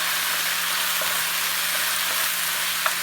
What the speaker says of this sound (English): I'm going to drop in my tomatoes, mushrooms, and that chili garlic sauce. And I'm going to stir fry this together.